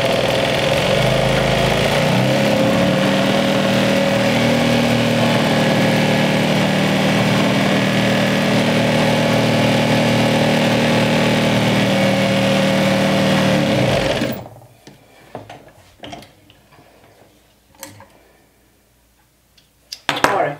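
A sewing machine stitches a bag strap, a steady close motor whir running continuously for about fourteen seconds, then stopping and leaving quiet handling clicks and rustles.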